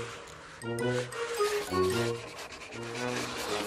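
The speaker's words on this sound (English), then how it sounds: "Maybe you can help me sanding the coffin." A wooden coffin is sanded by hand with steady rasping strokes, accompanied by musical tones throughout.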